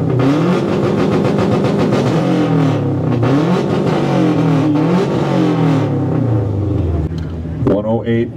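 A well-worn 2010 Subaru STI engine revs repeatedly at a car meet, a loud, close rumble rising and falling in waves, with people talking over it.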